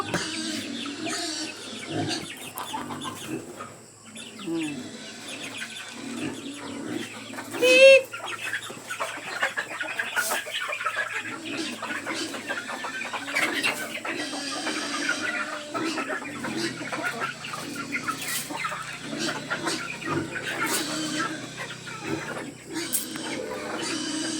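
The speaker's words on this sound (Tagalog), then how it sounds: "Ayan na, nagsilpaglapitan na ang aking mga manok." A flock of hens being fed clucks and chatters steadily nearby, a busy mix of overlapping short calls, with a brief louder squawk partway through.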